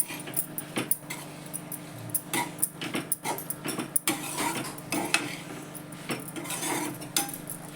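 Utensil scraping and clinking in a pan while dry-sautéing hyacinth bean pods (ghevda) into a dry vegetable dish, a steady run of close, irregular metallic scrapes and taps with no talk.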